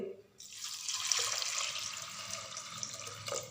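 Water pours steadily into a metal pressure cooker, a continuous splashing rush that starts after a brief pause and keeps going without talk.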